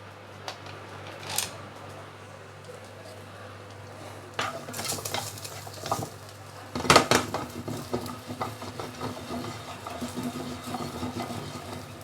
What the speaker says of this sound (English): is to quickly dry roast the ginger.